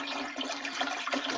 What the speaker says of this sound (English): And now the water's coming out.